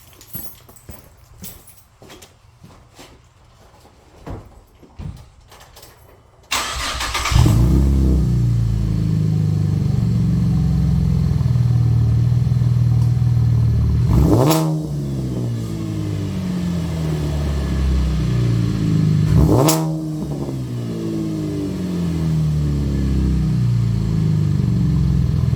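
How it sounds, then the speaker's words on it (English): 2015 Chevrolet Camaro V6 with the stock mufflers cut off: after some clicks and clatter, the engine fires and idles loud and raspy, with two sharp revs rising and falling over the drone. "See what it sounds like with no mufflers"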